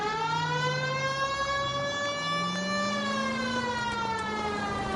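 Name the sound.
police car siren in video game L.A. Noire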